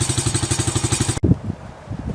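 A Baja Dirt Runner 125 motorcycle engine with a freshly restored exhaust pipe putters in a fast, even rhythm for about a second, then cuts off abruptly and leaves faint uneven rumbling.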